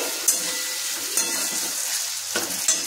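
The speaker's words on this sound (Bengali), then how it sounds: "দেখুন আলুটা ভাজা হয়ে গেছে।" Potatoes fry in a pan with a steady soft sizzle, broken by a few brief light scrapes of a spatula, no talk.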